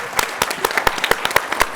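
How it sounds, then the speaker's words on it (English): A group receives a round of applause from an audience, a run of distinct claps at moderate volume with no talk over them. "giving us big round of applause for this group"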